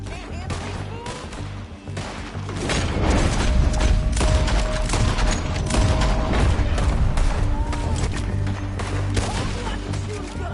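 Steady gunfire in Red Dead Redemption 2, a loud, busy exchange of shots and booms that builds and holds for several seconds amid game ambience.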